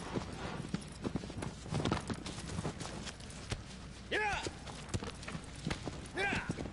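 Hooves clip-clop in a quick, steady rhythm as a horse runs in Shadow of the Colossus (2018), with a brief whinny-like call and rising tones mixed in near the end.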